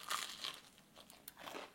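Crisp crunching from a bite into warm apple puff pastry made with flaky leavened croissant dough, with several close, brittle crackles in quick succession and no talking.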